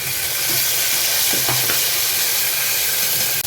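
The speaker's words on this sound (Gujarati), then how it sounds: "લીલી ડુંગળીને આપણે સાતળવા દઈશું। ડુંગળી સતળાય એટલે આપણે એમાં ટમેટાં નાખી દઈશું।" Green onions sauté in a hot pan with a loud, continuous sizzle and a few soft stirring scrapes, no voices.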